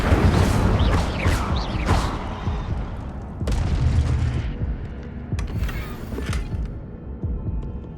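An Incendio fire spell cast in the Hogwarts Legacy video game, with a loud whooshing burst and booming impacts at the start, then a second rushing surge and fading mechanical crackles and creaks.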